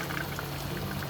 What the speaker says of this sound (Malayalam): ഇത് അരപ്പ് തിളയ്ക്കട്ടെ